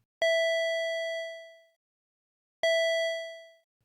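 A synthesizer organ patch from a single oscillator through a low-pass filter sounds two sustained tones, each with a sharp onset that rings steadily and then fades out, separated by a short silence.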